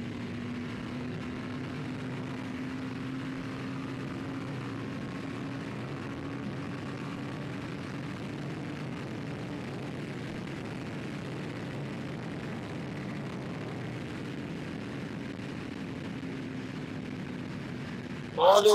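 A motorcycle engine drones steadily on a straight highway in Tamil Nadu as the rider opens the throttle a little, with wind rush throughout and a brief louder burst at the very end.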